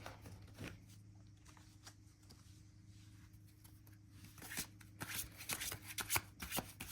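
Tarot cards shuffled by hand in a quiet room, soft papery riffling and patter that grows busier and louder toward the end, close but low in level.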